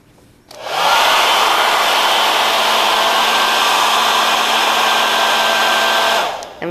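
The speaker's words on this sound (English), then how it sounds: "So first we're going to blow air on the nose of the teardrop wing." Steady blown air rushes onto the nose of a teardrop-shaped wing, switching on abruptly, holding as a loud even hiss with a faint motor hum, then cutting off.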